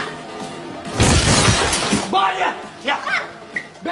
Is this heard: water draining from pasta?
no